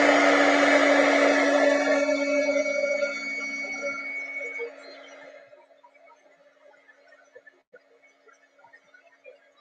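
A hair dryer blows on wet paint with a loud, steady whirring hum and whine, close up, then switches off and winds down over a few seconds into near silence with faint clicks.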